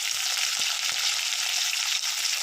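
Chopped tomato hits hot oil with frying ginger and garlic, giving a steady, dense sizzle close by, broken only by a few soft stirring knocks.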